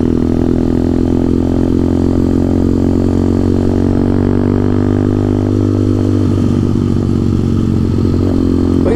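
A motorcycle engine runs steadily close by, a deep even throb with strong low harmonics that holds for about nine seconds and shifts slightly near the end.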